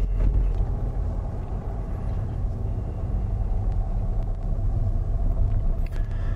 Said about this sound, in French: On est au ralenti moteur à peu près.